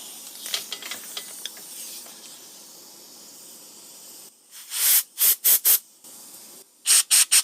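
Compressed air hisses from an air hose on a Grizzly G0755 mill's power drawbar in several short, loud, sharp bursts, after softer rattling and clicking.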